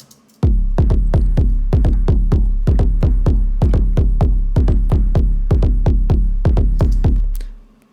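A punchy tech house bass loop layered across high mids, low mids and sub thumps in a steady four-on-the-floor rhythm with a deep sub underneath, loud and repetitive, ending with a fade.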